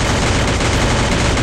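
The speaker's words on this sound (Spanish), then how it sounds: "¿vieron esos disparos?" Dense gunfire from the Free Fire video game forms a continuous loud, noisy wash of rapid shots with no pauses and no talk.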